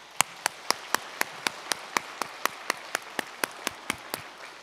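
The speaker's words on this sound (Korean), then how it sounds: "13년 동안 중앙교회를 붙드시고 인도하신 하나님께 감사와 영광의 큰 박수를 올려드리겠습니다." A standing church congregation at Jungang Church claps in steady unison rhythm, about four sharp, evenly spaced claps per second, fairly quiet and with no voices over it.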